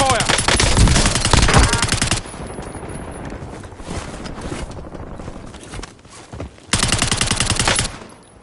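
Rapid automatic gunfire in a Warzone match comes in two loud, dense bursts, one at the start and one near the end, with quieter scattered shots and movement in between.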